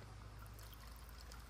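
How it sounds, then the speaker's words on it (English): Regular filtered water poured into a cup, a soft continuous trickling stream heard close and faint over a low background hum for a short stretch. "we're gonna take some water. I'm gonna pour it in this cup"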